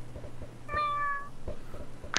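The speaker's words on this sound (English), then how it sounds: "there's a cat meowing at me" A cat gives a single clear meow that is close and distinct, heard during a Minecraft livestream over a soft background of repeated clicks and taps.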